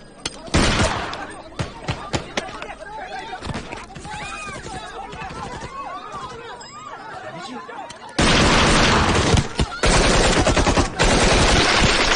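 Gunfire cracks out in sharp bursts, scattered at first and then a dense, loud, rapid fusillade over the final seconds, with voices talking beneath the earlier shots.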